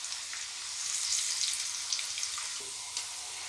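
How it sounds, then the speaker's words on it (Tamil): Masala-coated sweet corn deep frying in hot oil, a steady crackling sizzle with dense bursts of popping, close and continuous, with no voices. "கொஞ்சம் கொஞ்சமாக போட்டு பொரிச்சு எடுக்கணும்."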